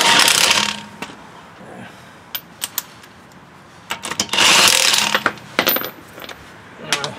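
A worn socket wrench working on a wheel of a 2008 Nissan Armada, giving bursts of metallic ratcheting clicks and clatter at close range with pauses between them, no speech.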